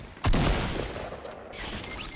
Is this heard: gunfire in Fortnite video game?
yes